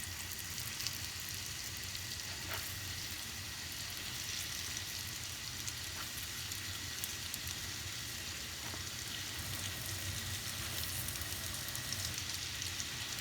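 Steady, dense sizzling of pastry dough frying in a hot pan, continuous and fairly loud, with a few faint clicks and no talking.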